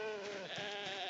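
A cow calling on a cattle farm in open pasture, a single drawn-out bellowing moo that sounds faint and distant throughout.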